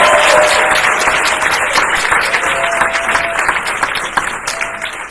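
Audience applause at the ECPI University Greensboro graduation ceremony for the class of 2025: loud, dense, sustained clapping from a large crowd, holding steady and tapering slightly toward the end.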